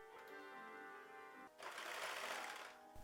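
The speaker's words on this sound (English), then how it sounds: "For that part I'm gonna use my serger" A serger overlocks fabric edges for a hood upcycled into a balaclava, its rapid mechanical whir running steadily and loud, then swelling into a brighter, busier burst of stitching for the last second and a half.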